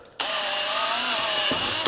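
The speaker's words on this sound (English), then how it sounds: "So I drill it just about like this." A power drill boring a hole for radon mitigation system manometer tubing, a loud steady high whine running almost two seconds after a sharp start, then stopping abruptly.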